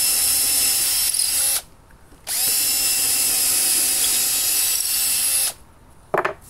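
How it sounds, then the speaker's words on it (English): A power drill whines steadily as it bores into pallet timber, two long runs separated by a short pause, then a brief rattle at the end. "So I just place the guide on the piece of timber I want to drill."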